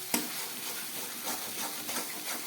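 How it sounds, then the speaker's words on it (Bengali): Ginger and cumin frying in a pan while being stirred, a quiet steady sizzle with soft scraping movements and one small knock near the start. "আদা জিরেটা খুব ভালো করে ভেজে নিলাম।"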